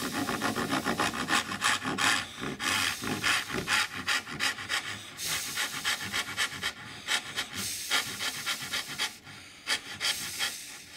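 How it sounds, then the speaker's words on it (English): A hand saw cuts through pine for a candle box. Close, rhythmic rasping strokes repeat steadily, each push and pull clearly separate, with no voices over them. "I just want to devote all my attention to this saw cut along here."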